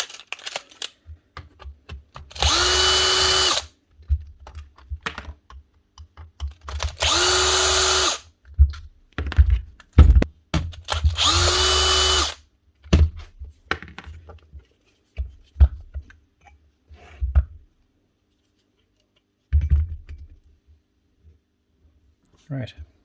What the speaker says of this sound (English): she's trying to start, so the motor's still attempting to go. It's just the anvil's not shifting.